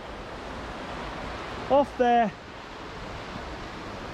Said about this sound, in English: But this is one of two weirs on this stretch of the River Irwell.